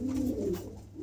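A Lahori pigeon from a pair sitting on eggs gives a short, soft, low coo, close by and alone.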